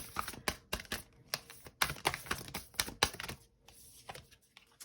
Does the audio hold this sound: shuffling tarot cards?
yes